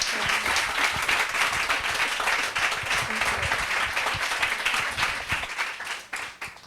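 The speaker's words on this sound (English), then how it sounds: "Could you just give everyone a big round of applause?" Warm applause from the audience at a literary reading with authors Lucy Tan, Crystal Hana Kim and Vanessa Hua, many hands clapping steadily at moderate volume and thinning out over the last second or so.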